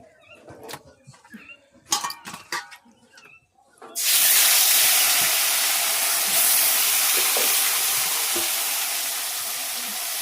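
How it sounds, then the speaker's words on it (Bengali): Animal fat is dropped into a pan after a few clinks and knocks, then bursts into a loud, close, continuous sizzle that slowly eases off. "এবার বাকি চর্বিগুলো আমি দিয়ে দেবো এখানটাতে।"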